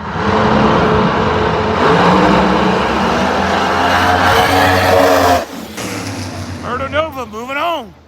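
A loud, sustained engine roar from drag race cars launching down the strip at Maple Grove, including the Murder Nova, cuts off abruptly and gives way to wavering tones and voices.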